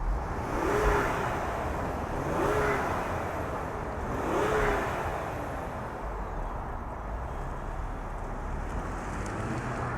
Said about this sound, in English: let's fire it up and see this thing move.